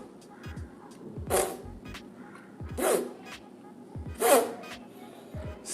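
A human voice beatboxes an imitation of a clothing zipper, three sharp zipping bursts spaced about one and a half seconds apart, each followed by low percussive clicks, close and fairly loud.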